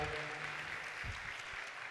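An audience at a youth leaders' political forum claps in a steady, moderately faint wash of applause, even and continuous throughout the short stretch.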